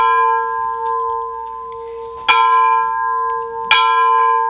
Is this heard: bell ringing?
yes